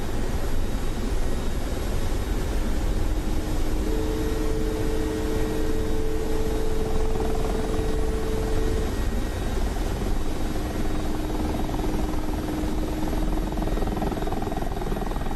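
A Mi-24P Hind attack helicopter flying in the DCS combat flight simulator, a loud, steady rotor and turbine drone filling the whole stretch, with a faint tonal whine rising partway through.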